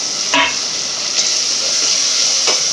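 Tomatoes added to sautéed onions fry in a pan with a loud, steady hiss, broken by a few soft knocks of stirring.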